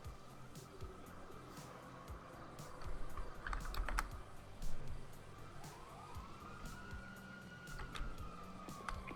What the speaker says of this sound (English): Hey, you hear the sirens?